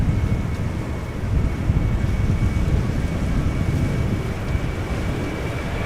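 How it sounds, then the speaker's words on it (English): A KLM airliner approaches the runway threshold at Amsterdam Schiphol Airport, heard as a steady, distant jet roar mixed with wind buffeting, with a faint high tone over the broad rumble. "KLM Flight 603 was in the background just now. It is approaching the threshold"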